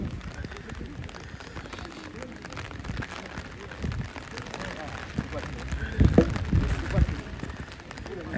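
Rain falls steadily through an outdoor tête-à-tête pétanque qualifying match between Cazères and Rieux, a constant patter under a commentator's voice, with a few louder knocks near the end.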